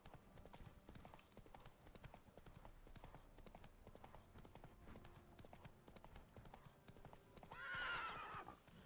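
In The Witcher 3 video game, a horse trots with steady, quick clip-clop hoofbeats throughout and lets out a whinny near the end, all fairly quiet.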